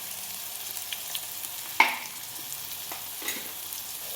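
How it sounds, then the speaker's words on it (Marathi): Tomatoes dusted with red chili powder sizzle softly in a pan for a spicy clam masala, with a sharp metallic scrape of the spoon stirring midway and a few lighter clinks, no talking. "टोमॅटो चांगला असं परतून जरा नरम होऊ द्या पाहिजे"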